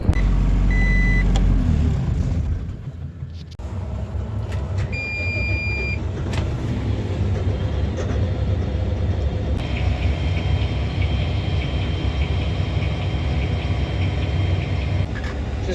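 A tractor's steady, loud engine rumble runs throughout as it moves, with a brief dip near the start and a faint high electronic beeping over it.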